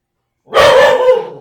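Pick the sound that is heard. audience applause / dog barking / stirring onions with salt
dog barking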